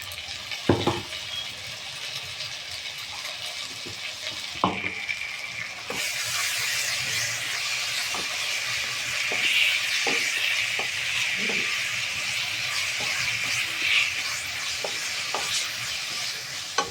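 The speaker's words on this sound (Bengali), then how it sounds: "এখন এর মধ্যে আদা রসুন আর কাঁচা লঙ্কার বাটাটা দিয়ে দেবো" Ginger, garlic and green chili paste sizzles and fries steadily in a hot pan for mutton curry, with occasional sharp clicks of stirring and a loud, continuous hiss.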